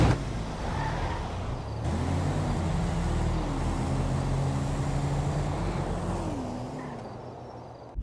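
Two video game street cars, a Nova and a Sultan RS, drag race in GTA V, with steady loud engine roar and rising, shifting revs throughout, no talking.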